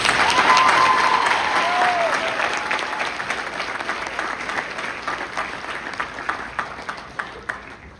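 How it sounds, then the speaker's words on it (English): An audience at a Kentucky high school Hall of Fame ceremony gives a sustained round of applause, loud at first and gradually thinning to scattered individual claps near the end. "One more round of applause for Ms. Poole, please."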